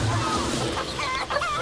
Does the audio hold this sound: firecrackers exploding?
no